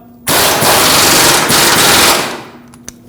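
Power tool tightening bolts on a 2009-2015 Honda Pilot during rear CV axle work, a loud, close impact-wrench burst hammering for about two seconds, then a brief trailing tap.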